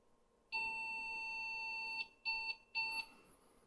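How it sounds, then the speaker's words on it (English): IBM 5150 PC sounding POST error beeps after an EGA card is fitted: one long steady tone followed by two short beeps, clear and alone. "those beeps that you heard is the 5150. When it goes through its testing, it's telling me that there's a custom BIOS error"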